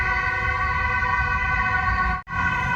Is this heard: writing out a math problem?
no